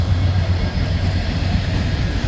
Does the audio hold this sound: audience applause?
no